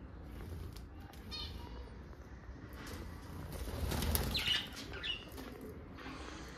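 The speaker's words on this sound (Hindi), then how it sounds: "इस पिंजरे में आप देख सकते हो खूबसूरत परिंदे" Caged pigeons and other birds on a rooftop terrace give faint chirps, soft cooing and a brief flutter of wings. The sounds are quiet and distant over a low background hum.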